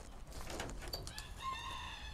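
A large Brahma rooster crowing close by, one drawn-out call over a low background rumble.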